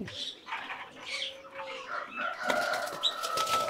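Pigeons flap their wings inside a pigeon house, bursts of fluttering close by, with a few soft chirps and coos scattered between the flaps.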